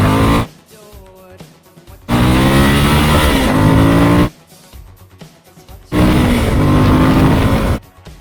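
A Suzuki V-Strom 1050XT motorcycle accelerates hard in two long, loud bursts, its engine note climbing through the gears. Each run is followed by a quieter stretch of idle and wind before the next pull begins.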